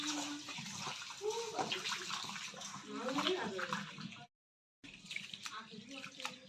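Home-grown rice swishes and sloshes in water as it is rinsed by hand, a close, continuous watery churning that briefly cuts out before resuming.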